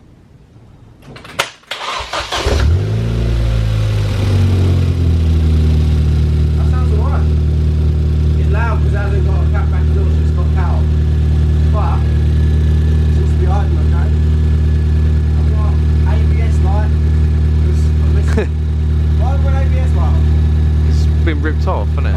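A Ford Fiesta ST, written off, cranks and fires up, then settles into a steady, loud idle that runs on under occasional talk and small interior clicks.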